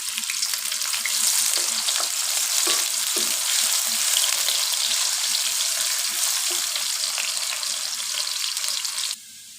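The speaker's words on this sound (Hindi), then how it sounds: "ये अब मैं इसमें प्याज डालने लगी हूँ।" Chopped onions frying in a pan for egg biryani give a steady, loud hiss of sizzling oil with occasional stirring clatter, continuous for about nine seconds before dropping off abruptly near the end.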